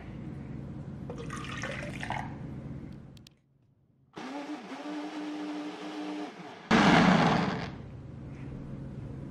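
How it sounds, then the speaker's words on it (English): Water pours into a blender cup holding watermelon, a gushing splash in two bursts separated by a short silence, with a louder rush near the end. "Now let's add some water."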